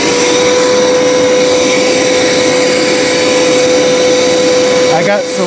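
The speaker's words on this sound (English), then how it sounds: "We're gonna turn the machine on." A Hoover PowerScrub XL Pet carpet cleaner (FH68050) runs loud and steady, with a constant motor whine and suction roar for the whole stretch, unbroken apart from a brief dip near the end.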